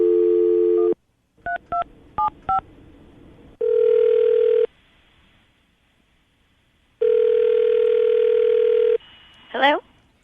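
Telephone call being placed: a dial tone, a quick run of touch-tone button beeps, then two long ringback tones separated by silence, ending in a short rising chirp as the line connects.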